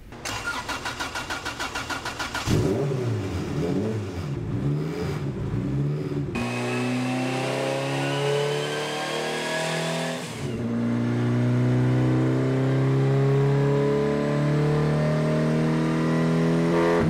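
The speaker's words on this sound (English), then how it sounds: "we start making full throttle pulls" A drag race car engine, boosted and running at full throttle, starts with a rough idle and then revs hard in loud, sustained pulls with rising and falling pitch, close and alone with no talk.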